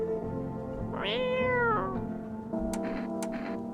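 A cat meows in a video game, a long drawn-out meow followed by a shorter one over a steady low musical drone, clear and close, with no voices.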